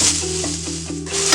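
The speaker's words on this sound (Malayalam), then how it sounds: "തക്കാളി ഇട്ടിട്ട് നമുക്കങ്ങ് ഹൈ ഫ്ലെയിമിൽ തന്നെ വെച്ചൊന്ന് നന്നായിട്ടൊന്ന് കുക്കായി വരണം" Tomatoes frying over a high flame in a pan for a chicken roll filling, giving a steady close sizzle with a few soft stirring scrapes and no talk.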